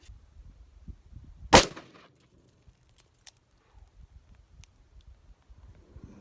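A Ruger Super Redhawk Alaskan handgun fires a single .454 Casull 240-grain XTP round, giving one loud, sharp report. Faint outdoor shuffling and small clicks come before and after the shot.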